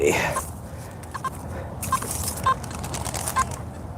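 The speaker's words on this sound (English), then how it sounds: "Oh, got some birds." Birds calling outdoors, several short chirping calls scattered over steady ambient noise, fairly near.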